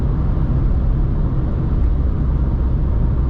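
Inside a 2023 Dacia Sandero Stepway 1.0 TCe 90 HP cruising at speed, air rushing past the side mirror and A-pillar makes a constant loud hiss over a heavy low road rumble, with no voices.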